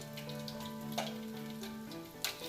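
Nigerian egg rolls frying in hot oil give a steady, faint sizzle with soft crackles and a couple of brief louder pops, with no one talking.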